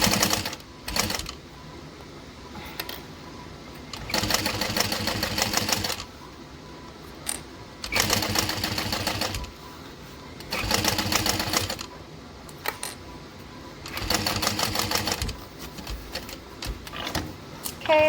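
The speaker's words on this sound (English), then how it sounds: "And then we're going to top stitch across." A sewing machine top stitches trim with a 1/8 inch seam allowance and stitch length 5, running in short loud bursts of rapid whirring with pauses between them.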